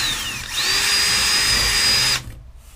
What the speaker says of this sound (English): we need to drill these little holes here so we can turn our saw